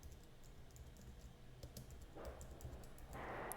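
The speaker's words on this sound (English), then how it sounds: "Let's type in ID and hit enter." A command typed on a computer keyboard: a few faint, quick keystrokes, ending in a slightly firmer press of the Enter key, in a quiet room.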